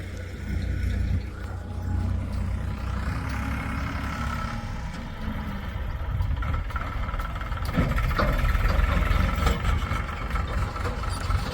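A steady, rumbling tractor engine runs close by on a farm, its low throb continuous and growing slightly louder toward the end.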